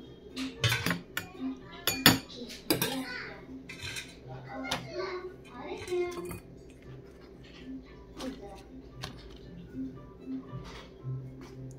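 Hot chana dal served onto plates alongside luchi at a family breakfast, with clinking spoons and dishes in irregular knocks and taps, close by, mixed with people talking and children's voices in the background.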